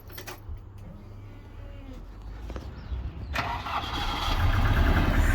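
A Volvo 240 engine with a troubled fuel system cranks briefly, then catches and rises into a loud, rough idle, heard close up.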